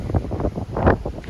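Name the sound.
wind on ferry deck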